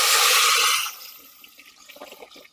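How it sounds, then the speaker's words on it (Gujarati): Dal tipped into hot tempering oil gives a loud, broad sizzling rush for nearly a second, which quickly dies down to a soft, crackling simmer. "હાલો જો તેલ આવી ગયું છે હવે વઘારી નાખી દાળ"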